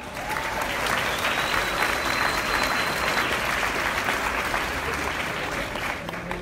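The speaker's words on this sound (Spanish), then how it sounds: "Yo quiero que la reciban con un fuerte aplauso." Audience at a Boys & Girls Clubs of Puerto Rico youth awards night breaks into sustained applause, a dense, even wash of clapping that swells slightly and holds throughout, with a faint voice briefly underneath.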